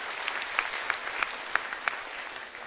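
Audience applause for the hotel at a stand-up comedy show in a ballroom of Hotel Papandayan, Bandung, a steady moderate clapping with sharper individual claps standing out, no talk over it.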